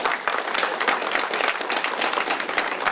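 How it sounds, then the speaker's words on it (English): An evening audience at a Bridgewater Public Library event gives a brief, lively round of applause, dense close clapping that stays at an even volume throughout. "Give them a clap."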